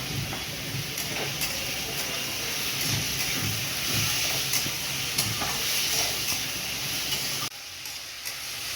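Papaya sautés in a pan with continuous, close sizzling and frying hiss, broken by repeated scraping stir strokes, until the sound drops away abruptly near the end.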